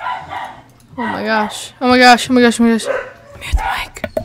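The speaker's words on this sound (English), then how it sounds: "Oh jeez, that's my dog." A dog barks close by indoors in a few sharp, loud bursts with some yips, while a person talks over and between the barks.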